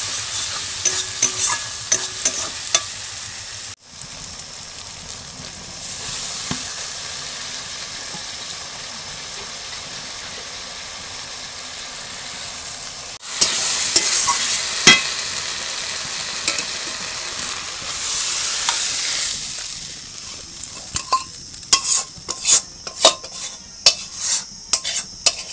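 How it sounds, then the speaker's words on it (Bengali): Masala for a crab curry is sautéed in a pan, giving off a loud, continuous sizzle. A utensil scrapes and clinks against the pan again and again, and the stirring speeds up into a busy clatter toward the end. "আর এদিকে কষানো হচ্ছে, এটাও প্রায় হয়েছে"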